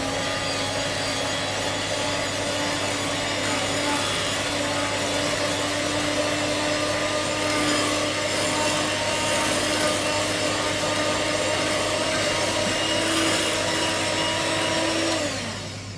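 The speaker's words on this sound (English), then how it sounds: "And again, we're just going to mix that in." An electric mixer beats chocolate icing for a pound cake, a loud steady motor whine that holds throughout and slows down at the very end.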